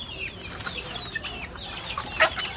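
Two-month-old pumpkin yellow-legged hatch chickens cluck and chirp softly at a small poultry farm, with scattered short calls over a steady low background and one louder call near the end.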